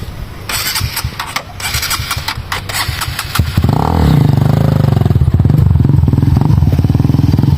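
A habal-habal motorcycle taxi engine is kicked over, first with clattering cranking and tapping, then catches into a loud, steady idle close by.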